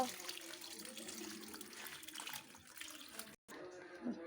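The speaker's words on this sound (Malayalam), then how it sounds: "നമുക്ക് ഈ ചെടിക്കൊക്കെ വെള്ളം ഒഴിച്ചു കൊടുക്കാം കേട്ടോ" Water pours and splashes steadily onto plants for a few seconds, a continuous close wash of liquid with a brief break near the end.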